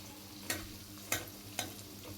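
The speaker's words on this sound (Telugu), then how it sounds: "దీంట్లోకి కొంచెం ఆయిల్ వేసుకుని 2 సన్నగా తరిగిన ఉల్లిపాయ ముక్కలు, అలాగే 4 పచ్చిమిరపకాయ ముక్కలు వేసేసుకుని వేయించుకోవాలి." Finely chopped onions and green chillies frying in oil in a pan: a steady low sizzle with three distinct stirring scrapes at even intervals, close and moderately quiet.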